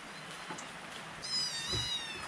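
A cat lets out one drawn-out meow, clear and fairly close, over quiet background hiss.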